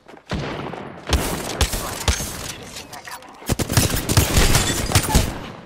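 Gunfire in the video game Apex Legends: loud bursts of rapid shots, separated by brief pauses, that build into heavy, sustained fire toward the end.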